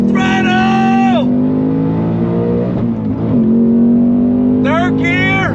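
A 2024 Ford Mustang Dark Horse with a 6-speed manual pulls hard on throttle on track banking, its engine roaring loud and close with a steadily rising pitch as it accelerates through the gears, a shift break audible near the end.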